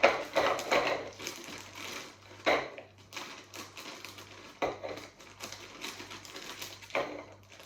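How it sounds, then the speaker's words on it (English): Rich tea biscuits drop into a mixing bowl in clattering bursts, several separate clusters of light hard knocks spaced a second or two apart over a faint low hum. "The first ingredient that we're going to pop into our mixing bowl are our 200 grams of rich tea biscuit"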